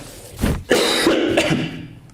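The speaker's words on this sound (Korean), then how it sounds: "오늘 제가 좀 감기가 걸렸고 좀 기침을 많이 하게 될 것 같은데" Repeated coughing and throat clearing from a man with a cold, loud and close, during a church sermon, with no speech.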